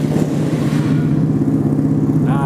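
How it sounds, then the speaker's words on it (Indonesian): A small custom motorcycle engine idles close by, a loud steady low rumble with rapid firing pulses that runs throughout without voices. "Kita coba nyalain."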